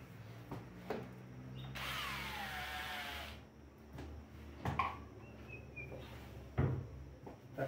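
A power drill drives screws into the underside of a wooden bench, one sustained whirring run lasting over a second, followed by scattered knocks and handling clatter at a quiet level.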